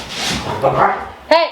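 Dogs bark in a home kitchen, with a muffled bark or two early on and a sharper nearby bark at the end, while someone speaks briefly over them.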